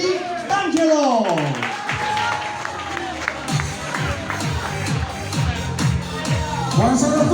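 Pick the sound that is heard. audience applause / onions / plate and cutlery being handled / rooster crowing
audience applause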